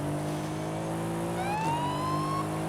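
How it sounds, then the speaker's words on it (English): A short rising electronic siren-like tone from the racing game Forza Horizon 5 swells over a steady engine drone, lasting about a second before fading back into the continuous motor hum. "Little celebratory siren"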